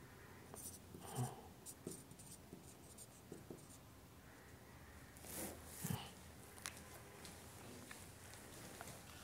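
Pen writing on paper during an accounting lesson on bank reconciliation, faint scratching strokes in short bursts, quiet and close in a hushed room, with a voice speaking softly at times.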